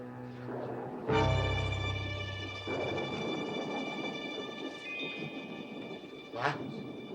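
Close thunder from a nearby lightning strike cracks suddenly, then rolls and rumbles loudly for several seconds before fading, with a brief sharp burst near the end.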